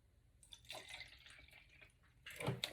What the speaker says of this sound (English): So pour this juice in here right quick.